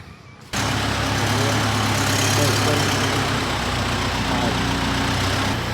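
A heavy diesel engine starts up after a brief quiet moment and then runs steadily and loudly at a low, rumbling idle.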